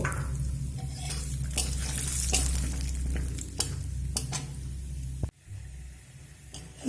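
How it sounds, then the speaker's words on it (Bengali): Raw peanuts frying in hot oil over low to medium heat, a steady close sizzle with scattered stirring clinks and scrapes, ending with a sharp knock and a brief drop in sound, with no voices. "এবার এখানে আমি যে কাঁচা বাদাম রেখেছি বাদামটা ভেজে নেবো"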